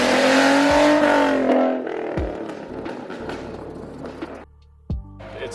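Modified 2013 Ford Mustang V6 exhaust revving loudly up and down, a deep throaty roar that swells, then drops back to a lower idle rumble with a short sharp blip near the end, close and alone with no talk.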